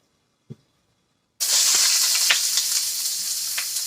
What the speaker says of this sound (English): here's the onion. And we're going to stir fry this until it gets tender